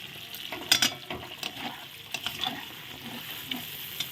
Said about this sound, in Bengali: মশলা দেখো ভালো করে ভাজা হয়ে গেছে আর চার থেকে তেল বেরিয়ে গেছে